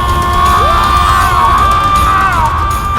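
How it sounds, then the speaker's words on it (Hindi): A loud, anguished wailing scream holds for seconds with wavering, sliding pitch. It is harsh and dense over a continuous rumbling background. "इसके रुदन से मेरे कानों में पीड़ा हो रही है"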